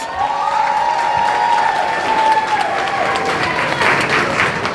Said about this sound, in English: Let's give this great-looking, smart group of kids another round of applause.